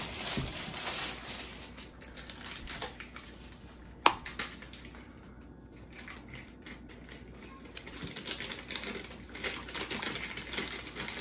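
Soft, close crinkling and rustling from a small plastic baggie being unwrapped during an unboxing, with irregular crackles, a sharp snap near the middle and quieter stretches, light talk faint in the background.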